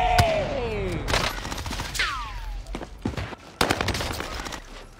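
Video game gunfire: rapid bursts of shots and sharp single cracks in an uneven volley, with whizzing effects, loud and up close.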